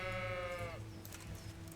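A single drawn-out sheep bleat in the video game Kingdom Come: Deliverance, wavering and then dropping off, followed by a low steady hum and faint clatter.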